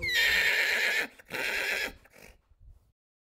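A loud, close horse neighs in a long shaky whinny that breaks off, resumes briefly, then trails into a few soft snorts before silence.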